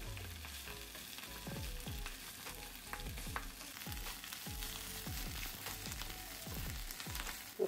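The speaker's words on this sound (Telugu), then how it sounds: "ఆకు మంచిగా ఫ్రై కావాలి, కొంచెం బ్రౌన్ కలర్ వచ్చేంత వరకు, గోల్డెన్ బ్రౌన్ లాగా రావాలి" Chenangi leaves frying in a pan for pachadi, a continuous oily sizzle with repeated scraping strokes of a spatula at a steady stirring rhythm, close and moderately loud with no talking.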